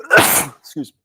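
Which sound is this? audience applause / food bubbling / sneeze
sneeze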